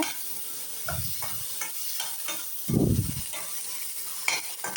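Garlic sizzling as it sautés in a pan, with a few separate bursts of frying hiss and one louder swell near the middle, plus faint stirring clatter and no voices.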